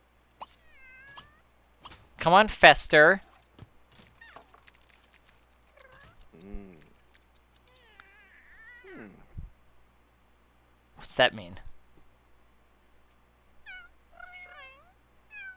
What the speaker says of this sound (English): They're doing meow meows, guys.